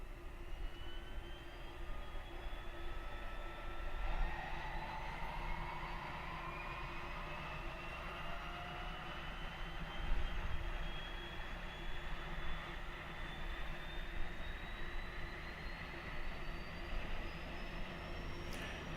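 The right engine of a light twin-engine airplane spools up on start, a steady low mechanical drone with a slowly rising whine, moderately distant and with no talk.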